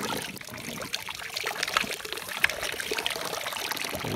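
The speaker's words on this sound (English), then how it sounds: "then you just pour in new water, and then it recirculates" Fresh water pours into a boat's bait tank holding pilchards, a steady close trickle and splash running continuously with faint background noise.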